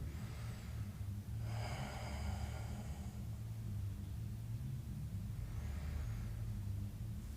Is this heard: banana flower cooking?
no